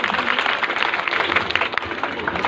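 An audience clapping at a stage performance, a brief burst of dense applause with scattered sharp claps, steady and fairly loud.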